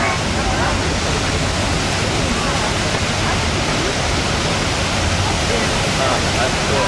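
Steady, dense roar of rushing water from a waterfall on the Willamette River, broadband and constant throughout with no pauses.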